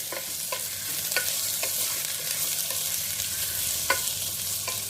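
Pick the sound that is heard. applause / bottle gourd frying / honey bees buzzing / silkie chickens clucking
bottle gourd frying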